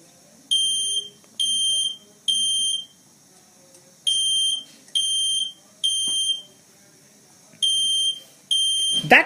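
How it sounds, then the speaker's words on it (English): A home fire alarm heard through a phone call from the FirstFireAlert app: piercing, evenly spaced electronic beeps in short bursts repeat steadily, sounding thin and slightly muffled over the line, with a brief clatter at the end. "So we can hear the fire alarm sounds in our phone"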